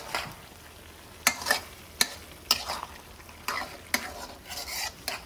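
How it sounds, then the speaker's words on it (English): A spoon scrapes and stirs through a sizzling pan of beef mince curry with green chilies, with several sharp clatters against the pan over a soft frying hiss. "Give it a nice mix."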